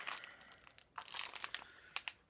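Plastic packaging crinkles and rustles in close bursts as it is pulled open, with a few sharp crackles near the end.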